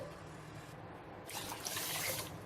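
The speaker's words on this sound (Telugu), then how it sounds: "ఇందులో నీళ్లు వేసేసుకోవాలి" Water running and splashing steadily into a bowl of rice, growing louder and brighter partway through, with no talking.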